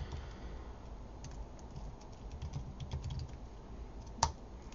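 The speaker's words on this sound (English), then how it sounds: "you can always go into a terminal and type the commands directly" Commands typed into a terminal on a computer keyboard. Steady soft clicking of keys runs through, with one louder key strike near the end and no talk.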